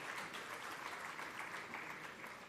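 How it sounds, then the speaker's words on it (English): A charity dinner audience applauds in a continuous, even wash of clapping. It stays fairly soft and distant throughout. "I would like everybody to clap for it."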